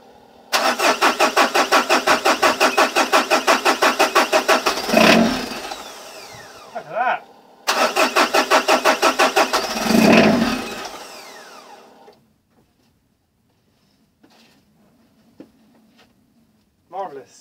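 Peugeot 605 car engine cranking over repeatedly with a rapid rhythmic starter whirr, two long attempts of several seconds each, after a fuel pump repair; near and loud, followed by quieter low rumbling and faint sounds.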